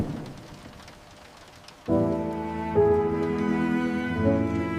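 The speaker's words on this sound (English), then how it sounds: "It's raining again" Rain falls as a soft, hissing patter for the first couple of seconds. Then sustained musical tones come in loudly and largely cover it.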